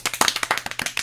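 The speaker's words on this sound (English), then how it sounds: "That's the point at which you applaud." Hand clapping from a small audience at a circus sideshow comedy magic interview: a quick run of about a dozen sharp, close claps in uneven rhythm, heard alone without talk.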